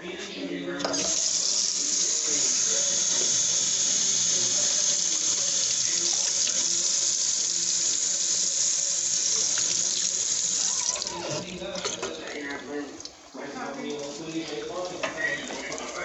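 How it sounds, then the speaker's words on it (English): A steady, hissing stream of one cup of water pours into a cooking pot of jollof rice with chicken for about ten seconds, then cuts off, leaving softer splashing and clattering sounds. "I'm going to add 1 cup of water to this."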